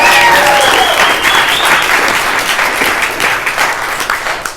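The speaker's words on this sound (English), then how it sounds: "Shameless pandering for cheap applause, and I appreciate every bit of it." A comedy club crowd breaks into loud applause, dense clapping mixed with a few whoops and cheers near the start, gradually thinning and fading over a few seconds.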